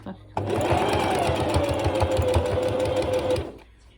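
Sewing machine stitching the seams of a memory bear, a loud steady rapid mechanical chatter running for about three seconds before stopping.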